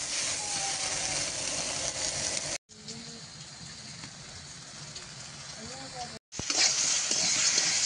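Plantain with salt and turmeric sautéing in an iron wok, a steady close sizzle with stirring scrapes, cut by two brief silent gaps; faint voices now and then beneath the frying.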